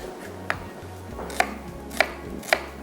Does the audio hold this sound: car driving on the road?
no